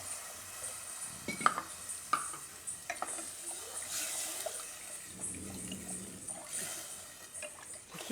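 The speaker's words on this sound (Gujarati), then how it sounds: "આપણે આમાં 3 કપ પાણી નાખીશું." Water pours into a cooking pot for khichdi, about three cups, with a steady trickling splash broken by a few clinks of the pot and utensils, close and fairly soft.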